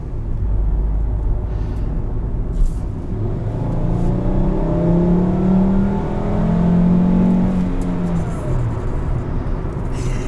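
A 2012 Volkswagen Beetle's 2.5-litre five-cylinder engine pulls hard under acceleration, a deep droning growl rising steadily in pitch, heard from inside the car without talk.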